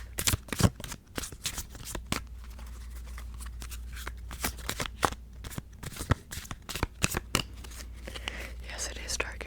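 Tarot cards being shuffled in a witch-themed setting: a long run of crisp, close riffling bursts and soft snaps, mostly alone over a steady low hum, with some faint whispery sounds between shuffles.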